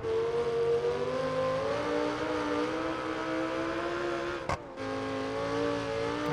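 A damaged Lamborghini Gallardo drives in the simulation game BeamNG.drive, its engine droning loudly and steadily with pitch shifting as it revs. One sharp knock cuts through near the end.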